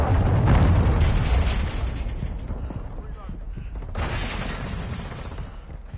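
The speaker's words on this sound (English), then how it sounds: "Friendly cruise missile deployed." Cruise missile strike in Call of Duty MW2 on PS5 detonating as a loud, rumbling explosion that rolls on for seconds, with a second burst of blast noise rising near the end, mixed with game announcer voice.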